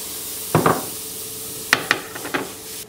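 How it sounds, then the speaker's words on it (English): Chopped shallots sauté in a heated skillet, a faint low sizzle under a few sharp scraping and stirring clatters that come in short bursts. "toss them into a heated skillet and saute them until they are golden"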